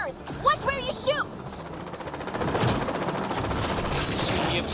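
Sustained automatic gunfire in a firefight in the sci-fi game Mass Effect: Andromeda, building into a dense, continuous barrage after a few whooshing effects at the start, loud and close, with voices shouting faintly in the mix.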